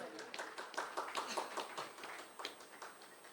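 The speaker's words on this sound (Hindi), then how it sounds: "मीठी मीठी तालियां चाहूंगा जरा जोरदार तालियां।" Applause from a ceremony crowd, with quick, scattered hand claps that keep up a moderately quiet patter for a few seconds.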